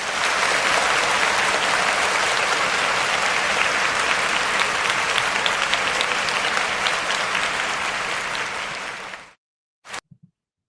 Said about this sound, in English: let's give her a round of applause if we can do that